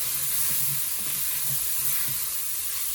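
Beef stock hits the bottom of a very hot pot with olive oil and onions for chili, producing a steady, loud hissing sizzle that holds evenly throughout with faint bubbling underneath and no talk.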